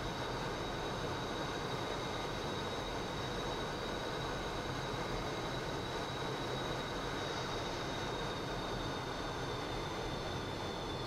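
An F/A-18E jet engine runs in a flight simulator as the throttle advances, making a steady, dense roar with a thin high whine and no other sounds.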